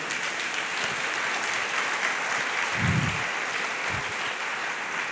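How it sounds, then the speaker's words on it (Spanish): Sustained, even applause from a church congregation, a broad wash of many hands clapping at a moderate distance, with a couple of low thumps partway through. "Dale un fuerte aplauso a nuestro Dios."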